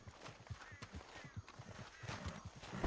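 Horse hooves clip-clop at a steady trotting rhythm in the video game Red Dead Redemption 2, close and moderately quiet, with faint background game sounds and no speech.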